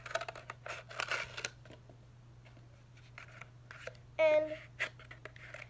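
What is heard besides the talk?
cutting little holes in a hamster toy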